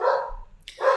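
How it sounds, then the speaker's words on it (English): Dogs barking in the background of a house on Halloween evening, two loud bursts of barking separated by a brief pause, with no talk over them. "Sorry about the dogs in the background."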